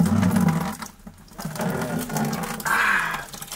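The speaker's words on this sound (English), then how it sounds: "This pipe here, them say the water come from up in the hills." Spring water piped down from the hills runs steadily out of a pipe, a continuous close splashing flow that dips briefly and then returns, brighter and louder toward the end, with no talking.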